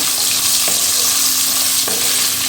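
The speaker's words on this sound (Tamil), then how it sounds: "நம்ம கட் பண்ணி வச்சுருந்த பாவக்காய் சேர்த்துடலாம் அதோடு சேர்த்து மிக்ஸ் பண்ணி விட்டுக்கலாம்" Cut bitter gourd pieces tipped into hot oil with tempered spices and stirred, giving a loud, steady sizzle with a couple of sharp spatula knocks against the pan.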